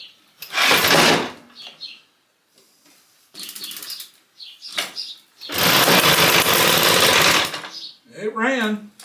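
A Puch E50 moped engine starts up in two loud, rough bursts of running, the second lasting about two seconds, with quiet gaps between them and a voice briefly at the end.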